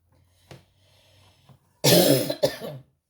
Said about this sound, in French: je tousse toujours